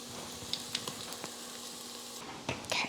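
Minced garlic fries in a pot over medium-low heat, giving a faint, steady sizzle with a few light clicks and a brief stirring scrape near the end, heard alone.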